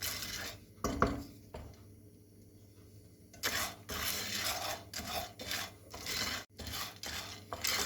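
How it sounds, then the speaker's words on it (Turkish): Popcorn kernels stirred in a pot ahead of a milk popcorn recipe, giving soft dry raspy scraping strokes, quiet at first and then livelier in repeated bursts, with no talking. "Sonra birazcık karıştırıyoruz mısırlarımızı arkadaşlar."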